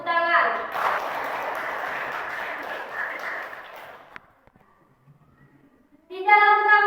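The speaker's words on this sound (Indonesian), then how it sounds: "Tepuk tangan." Pupils in a classroom clap together for a classmate's answer, a dense burst of applause lasting several seconds before it fades into near silence. A teacher's voice is heard before and after it.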